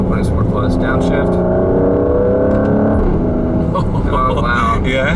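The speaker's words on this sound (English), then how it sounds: "The AMG performance exhaust makes it so much more desirable to me because I can't imagine getting this car without it." A 2020 Mercedes-AMG GLC 43 with the AMG performance exhaust, in Sport Plus, rumbles and revs loudly through a downshift, engine pitch rising and falling under ongoing talk from people inside.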